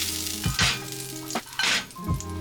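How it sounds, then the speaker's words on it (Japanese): Meat sautéing in a pan for a chasseur sauce, with close, bright sizzling that swells in bursts as the pieces are moved and stirred, without any talk. "で、ここからですね、 まあ、ソテーしていくんですけども"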